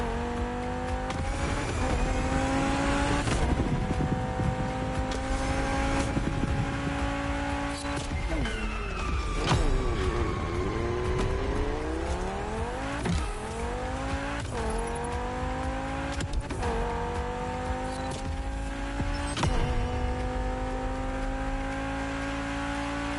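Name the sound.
car engine revving for drag race, The Crew Motorfest video game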